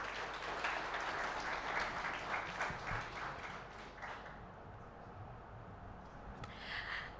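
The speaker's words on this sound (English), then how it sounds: "let's hear a round of applause for all the..." Audience applause at a panel discussion session, a steady broadband clatter of many hands clapping that fills most of the clip, then thins and fades toward the end.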